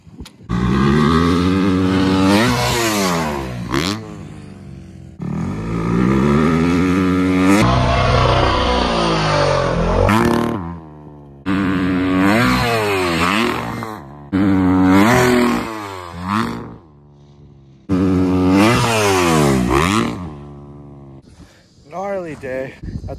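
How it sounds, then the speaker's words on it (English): A brand-new motorcycle on a race track revs loudly and repeatedly. The engine climbs through its gears in rising and falling sweeps, with brief gaps between bursts, and it sounds close to the microphone throughout. "Broke in the brand new bike a little more than I wanted to."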